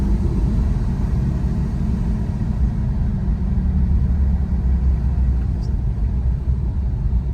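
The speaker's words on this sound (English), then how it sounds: "All right, now I'm gonna coast." A Porsche 911 coasting with its engine revs wavering, a steady low rumble throughout from inside the car, no talk.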